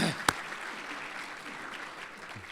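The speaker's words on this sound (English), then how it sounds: "How about a round of applause for the Miller family?" An awards ceremony audience applauds a family being honored, a dense spread of clapping with one sharp crack near the start, gradually thinning toward the end.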